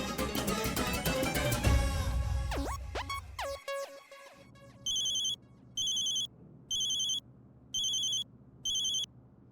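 On an outgoing phone call, a ringback tone sounds after a short burst of mixed tones. Five evenly spaced rings pulse with short silences between them, clear and alone.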